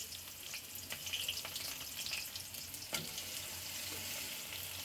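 Onion frying in hot oil in a pan beside a small-fish dish: a faint, steady crackling sizzle that holds evenly throughout, with no voices.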